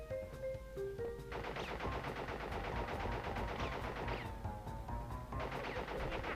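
Rapid bullets firing in a Crash Bandicoot game, a steady stream of quick shots over tonal game music, moderately loud throughout.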